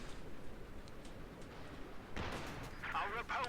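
In a strategy video game, an anti-tank gun fires volleys at a church during a garrison battle. A sharp burst of fire and an impact rumble sound under steady commentary, with fainter shots nearby.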